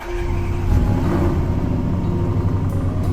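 Land Rover Defender engine in the Roblox driving game Greenville, a steady low rumbling idle with slight revving, close and continuous with no talk.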